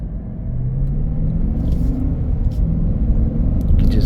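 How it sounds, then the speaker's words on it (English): From inside a 2023 Chevy Silverado LTZ on the move, a deep, steady V8 rumble carries under road noise with a few faint clicks, holding constant throughout. "You can just hear the rumble in that V8."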